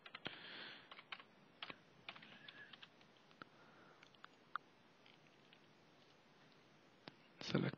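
Someone types a password on a computer keyboard, a sparse run of quiet, close key taps with short pauses and a louder clatter at the end.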